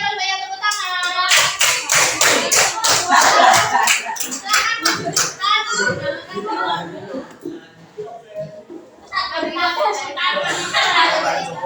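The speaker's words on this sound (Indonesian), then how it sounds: "Kelompok keluarga yang paling banyak tepuk tangan" A group claps hands in a classroom-style session, starting with a burst of fast, loud, closely spaced claps that fade into mixed voices and laughter, then pick up again near the end.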